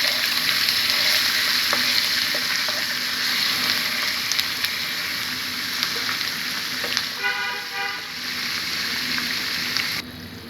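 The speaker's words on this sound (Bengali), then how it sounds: "মশলাটাকে কষিয়ে নিব।" Ginger, garlic and cumin pastes with ground turmeric sizzle steadily in a hot pan for a chicken jhal kosha, a dense continuous frying hiss with occasional stirring scrapes, close and loud throughout.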